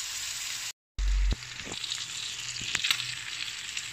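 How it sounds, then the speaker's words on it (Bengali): Chicken meat sautéing in a pan, with a steady close sizzle, a few soft stirring knocks and a brief dropout near the start; no one speaks. "এখন মাংসটাকে আমি ভালো করে কষিয়ে নেব"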